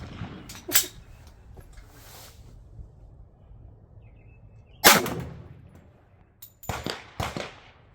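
Gunfire from a 10mm pistol, either a Glock 20 Gen5 or a Springfield XDM Elite, at an outdoor range: a few sharp, loud reports spaced apart, followed by a quick cluster of shots near the end.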